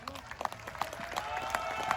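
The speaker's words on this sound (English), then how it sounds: "A big round of applause" Faint, scattered applause from an audience at an Independence Day celebration event, thin and uneven with a voice murmuring through it.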